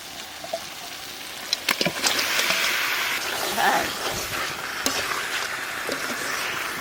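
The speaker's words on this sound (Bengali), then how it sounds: "এইবার মাছ দিয়ে আর একটু কষাবো" Tiger prawns are stirred into a spice paste in a hot pan, giving a steady close sizzle broken by occasional scraping and clinking stir sounds.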